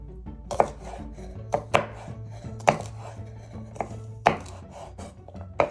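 A knife slices through asparagus on a cutting board, five or six sharp separate thunks spaced about a second apart, close and clear, with a low hum in the background.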